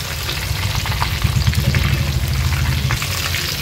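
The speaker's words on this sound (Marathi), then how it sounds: "आता गॅसची फ्लेम मी हाय करते आणि ह्याला थोडं तेलात मिक्स करून घेते हाय फ्लेमवर, म्हणजे छान क्रिस्पी बनतील" Prawns fry in hot oil over a high flame with a loud, continuous sizzle and crackle, a dense steady hiss that holds without a break, no speech.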